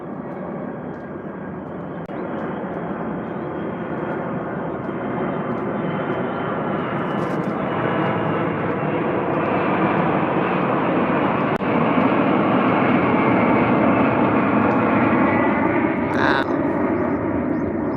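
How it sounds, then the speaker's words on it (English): A fixed-wing airplane flies overhead in Rwanda, a loud steady engine roar that swells gradually over the whole stretch and stays strong near the end. "That's a plane."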